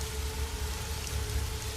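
Heavy rain pours steadily on a broken hut in the dark, a dense close hiss of drops with a low drumming underneath and no pause.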